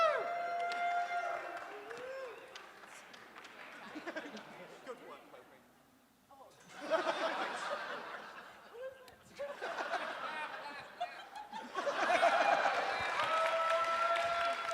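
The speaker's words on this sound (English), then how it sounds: "Round of applause for Popey" A live show audience breaks into applause and laughter in bursts, swelling and fading across the stretch, with talking mixed in.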